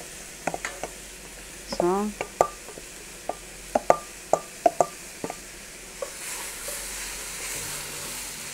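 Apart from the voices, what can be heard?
bell peppers frying and being stirred in a pot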